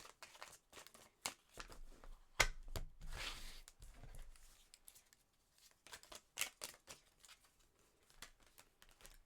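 Tarot cards are shuffled and handled for a reading: quiet, dry flicks and riffles in irregular bursts, with a louder flurry partway through. The sound is soft and close, with no speech.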